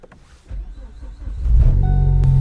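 A Ford Focus ST engine with new AWR mounts cranks and starts on a cold day, rising from a low rumble into a loud, steady idle close to the microphone, with a brief electrical whine near the end.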